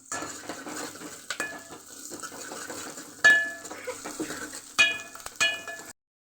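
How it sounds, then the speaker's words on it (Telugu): Onions and dried red chillies frying with cumin seeds in a pan, soft sizzling under repeated sharp metal scrapes and clinks of a stirring spoon, ending abruptly. "జీలకర్ర వేసినాక ఉల్లిగడ్డ, ఎండుమిరపకాయలు ఎత్తాను."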